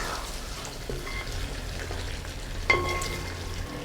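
Beef curry being mixed in a pan, a low soft bubbling and frying hiss with scattered light scrapes and one brief bright clink of the utensil near the end, no talking.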